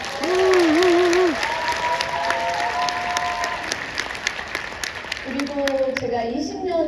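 Audience applause rings out steadily through a Korean speech event, broad clapping that stays fairly even throughout while a voice talks over it, and the clapping thins toward the end.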